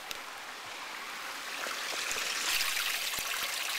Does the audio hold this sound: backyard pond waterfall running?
yes